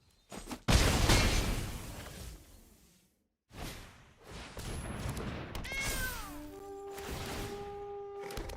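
A flying cat creature in a Magic: The Gathering digital card game meows amid whooshing card and spell effects, with a short pause between bursts and chiming tones toward the end.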